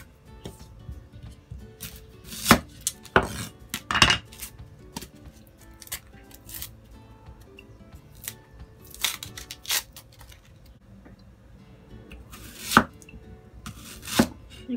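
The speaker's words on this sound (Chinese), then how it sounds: "洋葱将佢切粒啦" A knife dicing onion for fried potato cakes strikes the board in scattered sharp chops, some in quick clusters, over a low steady kitchen hum, close and moderately loud, with no talk.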